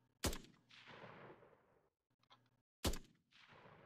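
Two loud, separate bursts of assault rifle fire in an Unreal Engine 5.1 first-person shooter, each a sharp crack followed by a decaying echoing tail, spaced a few seconds apart with quiet gaps between.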